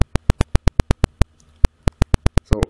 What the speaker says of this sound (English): there are this buzzer and the LED will give a notification